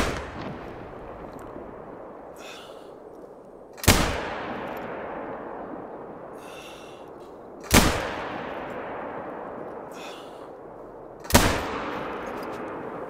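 Three loud, sharp .243 rifle shots fired with iron sights in a hunting video game, spaced about four seconds apart, each one cracking and then trailing off in a long rolling echo.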